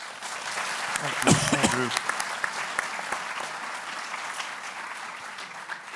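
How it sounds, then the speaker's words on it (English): An audience at an Institute of Politics panel event on American politics and the 2018 midterms breaks into a warm round of applause, swelling early and then holding steady, while someone briefly speaks over it. "Please join me in a round of applause for our panel."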